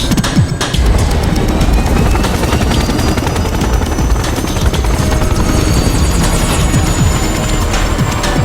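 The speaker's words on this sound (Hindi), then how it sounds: "अब मेरे को लगता है एडा जो है हेलीकॉप्टर लेके यहाँ से किसी और तरफ जाएगी" A helicopter in the Resident Evil 6 video game, during Ada Wong's campaign, thunders loud and close with a steady rotor chop throughout, alone without talk.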